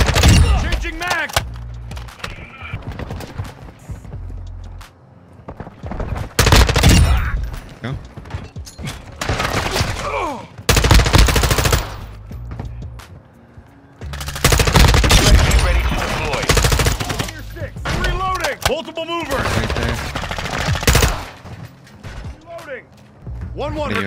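Video game gunfire from Call of Duty Modern Warfare 2 in a Team Deathmatch match, with loud automatic bursts and shots repeating through the clip among other game effects while voices talk over much of it.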